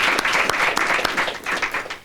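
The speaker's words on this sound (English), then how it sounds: "Let's have a round of applause." An audience at a mayor's press conference applauds, a short run of close, sharp handclaps in a fairly even rhythm that fades slightly near the end.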